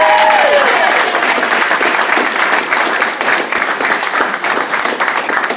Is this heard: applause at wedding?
yes